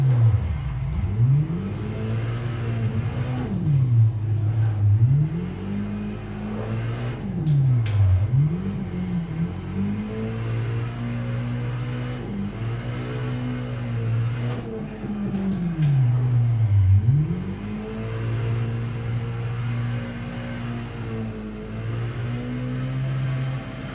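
Nissan Silvia S15 drifting in Assetto Corsa, the engine revving up and down through repeated rising and falling sweeps, steady and continuous for the whole stretch, with no voices.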